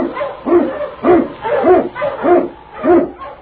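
Husky sled dogs bark in a rapid, rhythmic series of about seven yips and barks, loud and close, a radio-drama effect with a narrow old-broadcast sound and no talk over it.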